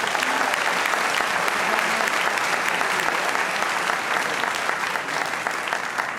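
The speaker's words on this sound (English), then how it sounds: "Please once again give them a round of applause." Sustained applause from an audience at a high school student achievement night, honoring scholarship foundation award presenters; steady, dense clapping that fills the room at an even level throughout, with no voices rising above it.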